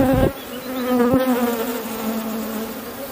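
Honeybees hum in a dense, close, continuous drone while an artificial swarm is being made, with a short knock near the start and no speech.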